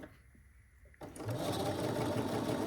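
After a second of near quiet, a sewing machine starts stitching fabric along a marked pen line and keeps running at a steady, fairly loud whir to the end.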